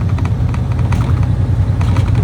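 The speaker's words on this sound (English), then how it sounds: "I use an engine brake in the small city town traffic" A vehicle using an engine brake in small-town traffic, a loud, steady low rumble with a rough, pulsing texture that continues throughout, with no talk.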